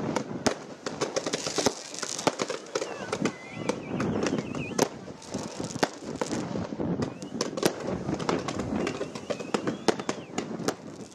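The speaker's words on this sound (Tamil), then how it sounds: "சிம்மக்கல் வைகையாற்று மேம்பாலத்தில் அரை மணி நேரத்துக்கு வான வேடிக்கை நடைபெற்றது" A fireworks display over the Vaigai river bridge at Simmakkal in Madurai, with dense, rapid bursts and crackling pops firing continuously at night, loud and distant-booming together.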